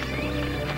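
Horse hooves clip-clop at a steady, soft pace, faint and brief, with no talk over them.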